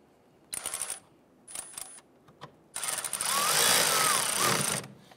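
Power screwdriver driving screws into a plastic fog light bracket on a 2011-2019 Ford Explorer: short whirring bursts, then a longer sustained run as a screw is snugged down, close by.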